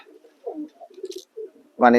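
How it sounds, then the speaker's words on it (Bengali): Pet pigeons on a rooftop on a rainy day give soft, low, rolling coos in short bursts, close and quiet, with a louder voice breaking in at the very end. "তো পায়রাগুলো দেখুন।"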